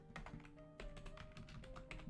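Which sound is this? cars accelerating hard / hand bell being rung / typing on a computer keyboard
typing on a computer keyboard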